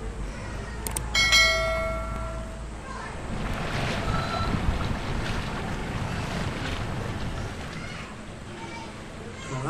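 Bus Simulator Indonesia gameplay of a bus boarding a ferry ship at Merak port, with a steady roar of engine, wind and water beneath a brief high tonal sound at the start.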